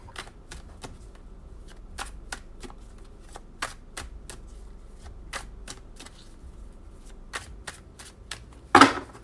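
Tarot cards are shuffled and pulled one at a time. Crisp, evenly spaced card snaps and flicks repeat up close, ending in a louder rustling shuffle.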